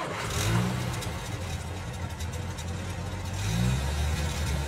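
Car engine revving and surging while driving in a slasher camp video game, a steady mid-pitched drone that swells louder near the start and again near the end, with no talk.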